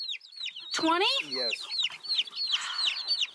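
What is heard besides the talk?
chickens clucking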